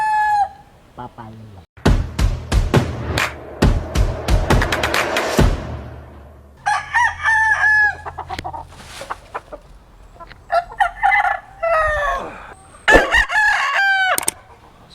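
A gray Papeye broodcock rooster crows loudly and repeatedly at close range in a small backyard poultry pen, with bursts of clucking between crows and a voice speaking briefly.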